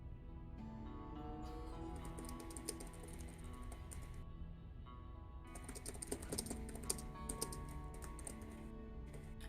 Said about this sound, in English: I can tell right now from the different keyboard ASMR that you are on your laptop